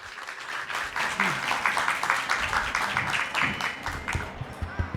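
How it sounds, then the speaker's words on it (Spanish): An audience at a book-fair talk organized by the Alliance Française applauds to welcome the speakers, a dense, even wash of many hands clapping with scattered voices in the room underneath. "Recibámoslas con un aplauso y bienvenidos a todos."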